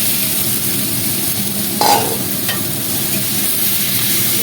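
Half-mashed pressure-cooked potatoes dropped into a pan of frying spices, a steady close sizzle broken by a brief louder splash and hiss as they land, then continued crackling.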